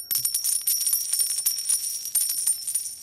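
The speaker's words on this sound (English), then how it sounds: "That's the sound of hitting that coin drop" A coin drop sound effect fired by a hotkey: a bright metallic jingle of tinkling coins that rings on for about three seconds, clear and alone.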